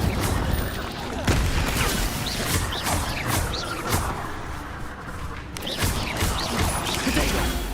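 Incendio fire spells and other combat magic crack and crash in a spider fight in the Hogwarts Legacy video game, with repeated sharp, loud impacts and bursts in an irregular rhythm.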